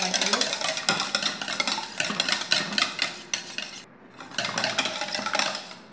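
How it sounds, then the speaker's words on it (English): An egg is whisked in a bowl with a utensil scraping and clattering in quick, rhythmic strokes, steady and close, broken by a short pause just before the four-second mark. "let's mix them for like 2 minutes until something like this"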